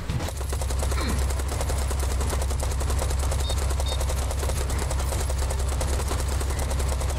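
Sustained rapid gunfire from Serious Sam 4, a dense continuous automatic stream of shots up close and loud over a low rumbling backdrop, without any talking.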